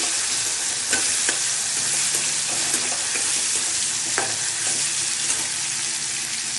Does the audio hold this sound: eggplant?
yes